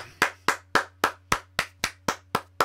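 Slow, evenly spaced hand claps, about ten in a steady rhythm, crisp and close against a faint low hum.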